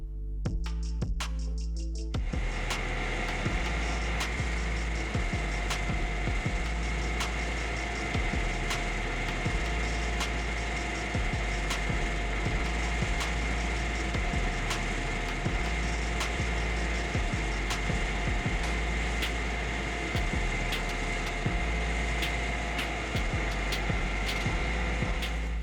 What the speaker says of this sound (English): the Vermeer SC30TX tree stump cutter is the perfect addition to any landscape arsenal.